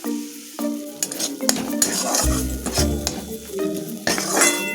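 Stuffed egg curry masala being stirred and sautéed in a pan, with a soft sizzle under repeated scraping strokes and clinks of a spoon against the metal, close and steady throughout.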